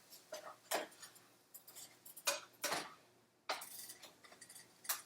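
A spoon stirs vegetables, onion and mushrooms with chili flakes and garlic in a pan, making quiet, irregular clicks and scrapes against the metal, close but faint.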